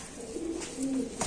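Racer pigeons in a cage coo softly, two or three low, drawn-out coos close by, ending in a sudden louder rustle.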